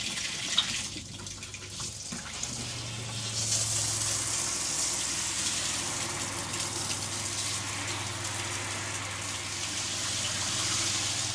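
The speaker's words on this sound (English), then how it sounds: "And now I'm going to go ahead and turn the shower on." An RV handheld shower head sprays water steadily at close range, a continuous bright hiss that swells slightly after a few seconds and keeps running without a break.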